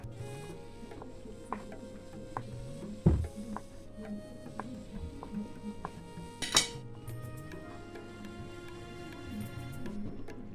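A knife cuts sausage into small cubes on a kitchen surface, giving a few soft taps and light clinks. One sharper knock stands out in a quiet room with no talking.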